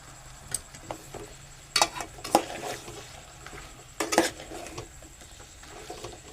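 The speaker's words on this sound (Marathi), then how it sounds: "जराशी ढवळून घेऊ जेणेकरून सगळा मसाला सगळ्या पदार्थांना" A spoon stirs an eggplant, potato and drumstick curry in a metal pot, making two close clusters of sharp clanks and scrapes against the pot with quiet, light ticking between them and no talk.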